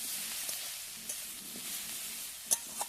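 Taro leaves are stirred with salt in a hot pan, giving a continuous close sizzle. Scattered utensil clicks cut through, with a sharper knock near the end.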